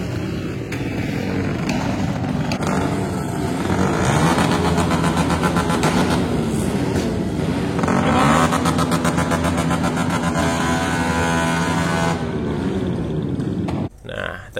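Loud motorcycle engines with custom exhausts rev and roar nonstop at Suramadu, their pitch surging up and down as several machines overlap, before the noise cuts out abruptly near the end.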